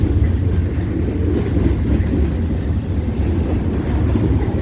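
A heavy CSX mixed freight train behind a diesel locomotive rumbles past on a bridge near Selkirk Yard, with a loud, steady low roar and clatter of wagons and some wind noise over the microphone.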